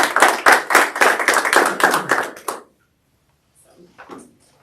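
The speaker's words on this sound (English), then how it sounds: "Maybe we could just have a quick round of applause and thanks." Brief round of applause from a small group at a parks and recreation advisory board meeting, a dense patter of clapping for about two and a half seconds that stops abruptly, followed by faint rustling and a few quiet sounds.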